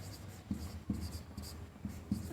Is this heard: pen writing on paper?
yes